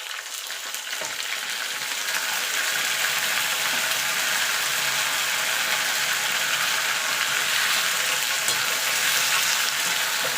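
Two small tomatoes, green chilli and ginger paste hit hot oil and spices for a vegetable khichdi, a loud steady close sizzle that swells and holds throughout with no talking.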